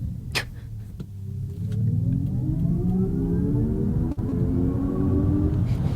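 Electric car's pedestrian warning sound on a stylish custom setting, a synthetic tone rising smoothly in pitch like a swelling engine, close and steady, with no talk over it.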